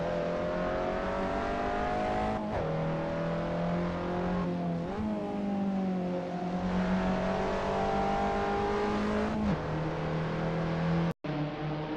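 Abarth race car engine in the Assetto Corsa racing game at Brands Hatch Indy, a loud continuous buzzing whine that rises and falls with throttle and gear changes, close and alone.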